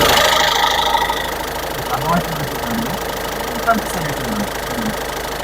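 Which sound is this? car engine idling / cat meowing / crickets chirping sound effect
car engine idling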